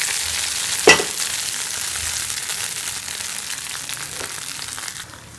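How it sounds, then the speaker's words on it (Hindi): Loud, steady sizzling of hot oil and spices poured as tempering over cooked dal, opening with a sharp crackling burst and then settling into a continuous fry. "हम दाल को तड़का लगा लेंगे।"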